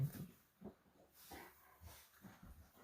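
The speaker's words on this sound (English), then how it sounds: "And yes, my dogs are playing in the background." Dogs playing indoors, with soft snorts, panting and little whimpering huffs coming in irregular bursts, faint and somewhat distant, with no talking over them.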